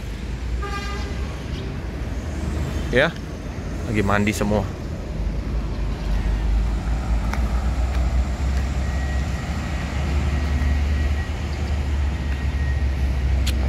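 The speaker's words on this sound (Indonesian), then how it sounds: "Inilah suasana di terminal Alang-Alang Lebar" Busy ambience at the Alang-Alang Lebar bus terminal, with a steady low rumble of idling buses and large vehicles, several short horn toots early on, and someone talking briefly over the traffic.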